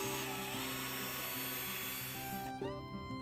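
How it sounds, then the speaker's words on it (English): A power drill whines at a high pitch, pre-drilling ripped-down 2x4 wood, its speed rising and falling as it bores, then winds down near the end. "pre-drilling the wood so it doesn't split"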